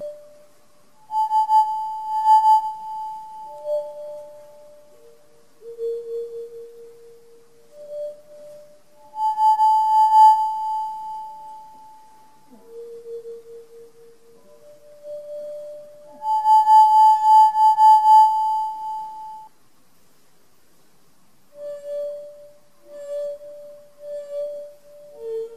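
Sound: resonating wine glass ringing with water inside

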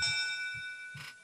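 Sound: notification bell ringing

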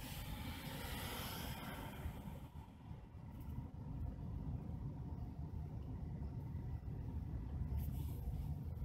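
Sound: passenger cars of the 611 steam train passing

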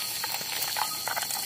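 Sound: frying carp fish

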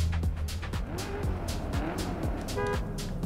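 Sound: Chevrolet Corvette engine starting in a driving video game

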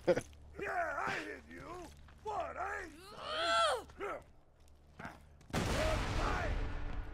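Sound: rocket launcher gunfire in the video game Borderlands 2

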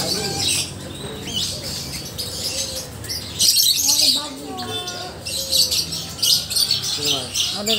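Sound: birds chirping at a bird market in Lombok

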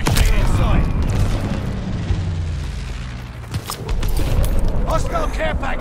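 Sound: glide bomb explosion in Call of Duty: Vanguard video game

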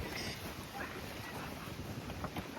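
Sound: cold wind blowing at lake

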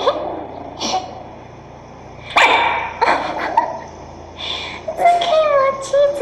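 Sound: puppy barking at a Kong toy

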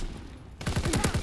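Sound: BAR gunfire in video game Call of Duty WWII

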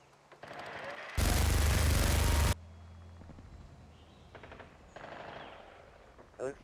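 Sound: turret gunfire in Modern Warfare 2 video game

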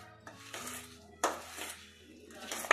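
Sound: mashing semolina barfi mixture

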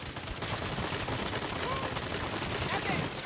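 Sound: gunfire from a boss's guns in the video game Saints Row

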